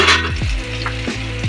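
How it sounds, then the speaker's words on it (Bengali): Potatoes sizzle and crackle steadily in hot oil in a pan, close and fairly loud, with faint stirring knocks and no voices. "তারপরে আলুগুলো এবারে তেলের মধ্যে ছেড়ে দিলাম"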